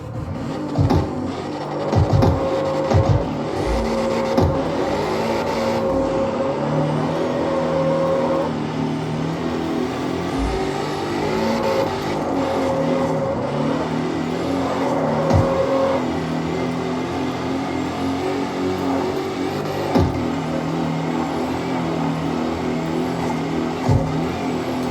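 A car engine in the racing game StreetCarX Online hums and revs steadily with shifting tonal pitches and occasional clicks across the whole stretch, loud and unbroken, with no voices.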